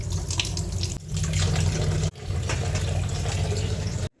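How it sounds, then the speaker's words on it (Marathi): Water runs steadily from a kitchen tap while eggs are washed, a close, continuous splashing stream with brief interruptions before it stops abruptly. "धुवून ठेवत असते मी फ्रीजमध्ये अंडी."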